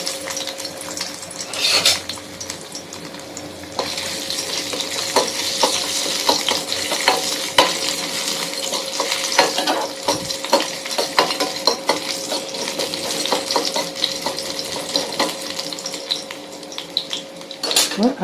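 Ginger pieces fry in oil in a pan while being stirred, a continuous close sizzle layered with frequent clinks and scrapes of a utensil against the metal.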